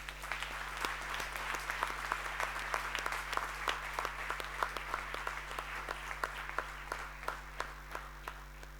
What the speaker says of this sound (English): A huge round of applause for our staff, teachers, and parents.